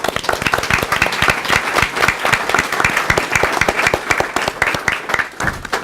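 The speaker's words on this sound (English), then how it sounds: "if you would give him a round of applause as well" A roomful of attendees at a legal education talk on gerrymandering applauds steadily, many sharp individual claps forming a loud, continuous round that tapers slightly at the end.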